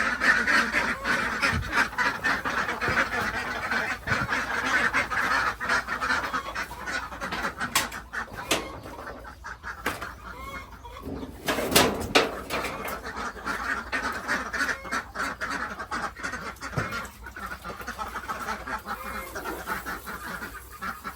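Egg-laying ducks on a small farm in rural northeastern Thailand quack continuously, many birds calling at once at close range in a busy, overlapping chorus, with water and handling noises underneath.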